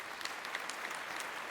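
Studio audience on a Tamil talk show clapping, a dense steady patter of many hands at fairly low level, continuous and alone.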